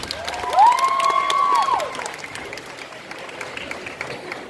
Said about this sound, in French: Et on l'applaudit encore bien fort